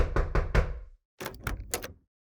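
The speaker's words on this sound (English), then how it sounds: "someone knocks at his door" Knocking at a door, two quick bursts of three firm raps each separated by a short pause, close and clear with no other sound.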